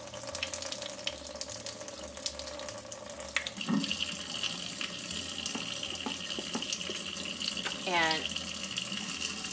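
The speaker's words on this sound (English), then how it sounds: "So I'm going to get a good stream of water going." Warm water runs from a tap in a strong, steady stream into a sink while paper with blue gouache is rinsed. The flow is continuous and close, with a brief spoken word and a few clinks partway through.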